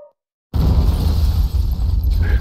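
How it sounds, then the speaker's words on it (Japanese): A door blows apart in an explosion from a PC sound-novel game: a brief silence, then a sudden loud blast that rolls on as a sustained, rumbling roar with debris-like crackle. "凄まじい爆音とともにドアが吹き飛んだ"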